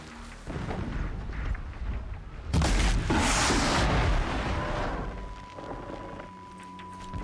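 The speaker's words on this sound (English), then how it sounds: "Explosions in the distance" Heavy explosions roll in from afar in Horizon Zero Dawn, with a loud deep burst in the middle that fades into a lingering rumble, then a steady tone and quieter background.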